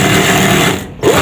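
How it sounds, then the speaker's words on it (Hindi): A sewing machine stitches a shirt collar band in a rapid, close mechanical whir that stops briefly near the end and then starts again. "सबसे पहले आपने यहाँ बैंड पे एक सिलाई लगा लेनी है।"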